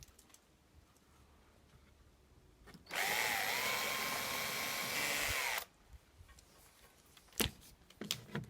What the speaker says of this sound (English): I'll put another screw in the middle